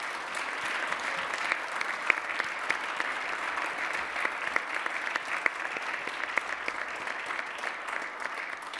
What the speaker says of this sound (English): Let's give Terza a round of applause.